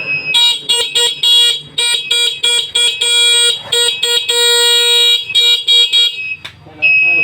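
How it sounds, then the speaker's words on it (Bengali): An easy bike's electric horn is honked close up in a series of short, loud, shrill beeps, some rapid and some held, with brief pauses between blasts and a final long toot. "হর্ন বাজবে।"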